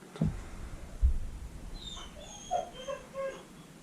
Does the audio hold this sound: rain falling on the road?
no